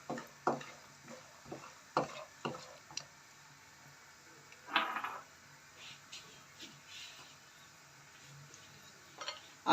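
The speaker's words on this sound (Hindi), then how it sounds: "साथ ही मैं इसके अंदर पिस्ता भी डाल दूँगी। ज़्यादा ब्राउन नहीं करने," Almonds and pistachios are lightly roasted in a pan, with scattered scraping stirs and soft ticking taps, quiet and close, separated by short pauses.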